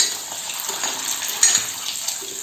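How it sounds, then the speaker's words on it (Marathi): Eggs fry in hot oil on a flat pan over a full gas flame, giving a steady, soft, hissing sizzle that stays fairly even throughout, with no voices. "आता ही आपली अंडी फ्राय झालीच आहे"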